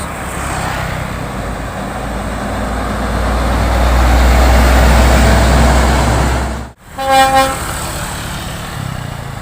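A loud Scania truck hauling a giant PC1250SP excavator rumbles close by with heavy engine drone, then a sharp break gives way to a long, steady blast of its horn.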